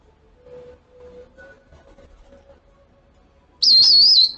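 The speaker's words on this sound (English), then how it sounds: "That's my Myers parrot." A Meyer's parrot gives a loud, shrill, wavering whistle-like call close by near the end, after a stretch of quiet, faint background tones.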